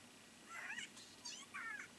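An anime cat meows three times, short and fairly high-pitched, each cry brief and separated by small pauses over a faint, quiet background with no voices.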